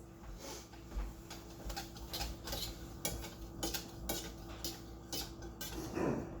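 Crepe batter being mixed in a bowl, with a steady run of clinking utensil taps and scrapes against the dish, close and fairly quiet.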